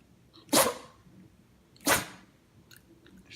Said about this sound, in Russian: Ты почему чихаешь-то?